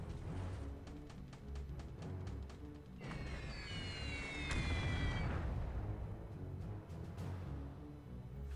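Bomb blast striking a ship in the War in the Pacific strategy game, a faint low rumble of detonations with crackling bursts and a swell of booming noise midway.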